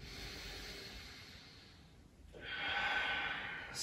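Slow deep breathing during a gentle yoga flow, a soft airy inhale followed by a fuller, louder exhale, close and alone without talk.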